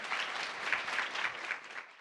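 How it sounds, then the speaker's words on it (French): An audience at a French-language panel on inclusion and diversity in sport and the outdoors applauds steadily for about two seconds, a dense, even patter of many hands clapping that tapers slightly at the end. "tout le monde, on peut l'applaudir."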